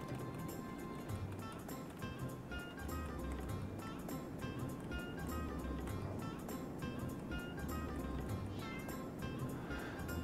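Cats meow in the Chrono Cross video game, small repeated cries set against steady, dense background game music that plays throughout.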